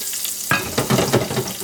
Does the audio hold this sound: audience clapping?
no